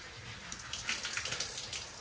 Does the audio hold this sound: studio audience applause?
no